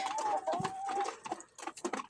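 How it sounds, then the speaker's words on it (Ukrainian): Featherless-necked hens clucking softly while pecking at feed in a farmyard, close and intermittent, with short murmuring calls and a brief higher tone at the start. "Ці лисі курочки їдять, смакують."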